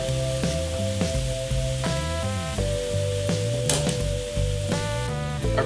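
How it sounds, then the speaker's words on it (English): Burgers frying in a pan, with a continuous close sizzle running under steady background music through the whole stretch. "Our burgers are nicely browned on the other side, so we're gonna flip them over to finish the cooking."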